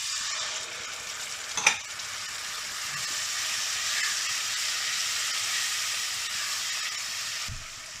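Three spices and tomatoes fry in a pan over the flame, giving a steady, even sizzle throughout, with a brief clink of a utensil early on and a soft knock near the end.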